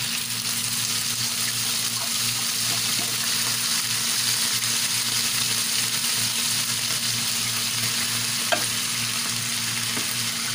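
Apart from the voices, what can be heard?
corned beef frying in a pan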